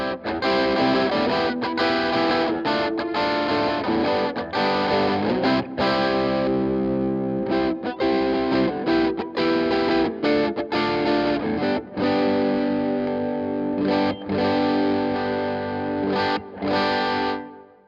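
A custom Valiant electric guitar with P90 pickups plays through a Lichtlaerm Audio overdrive pedal, giving a loud, sustained, distorted tone with rhythmic chord stabs and brief breaks between phrases.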